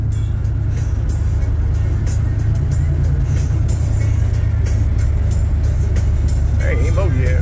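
A truck engine, freshly repaired after a rear main seal job, runs with a steady loud rumble while driving, road and cabin noise constant throughout, with a bit of whooping and talk from inside.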